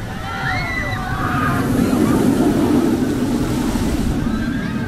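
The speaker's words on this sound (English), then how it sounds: "Plus one, SeaWorld, for keeping the water effect working" Water splashes and sloshes steadily from a working water effect on a SeaWorld ride, a close, continuous rushing wash with faint voices and whistles in the background.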